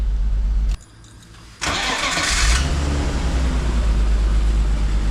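A BMW E46, converted from automatic to manual, has its engine start partway through and then run steadily at a loud, close idle while the rear is jacked up for a clutch test.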